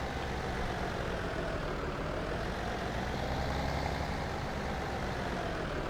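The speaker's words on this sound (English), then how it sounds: "Let's go ahead and park this tractor, because this tractor's work is pretty much done" A tractor engine from Farming Simulator 17 on the Goldcrest Valley map runs at a steady, loud idle. The heavy, continuous rumble holds without change for the whole stretch, and no voices are heard.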